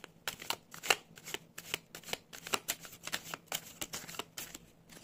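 Tarot cards being shuffled by hand at close range, quiet, quick riffling flicks and soft slaps coming in an uneven but steady stream for several seconds, with no voices.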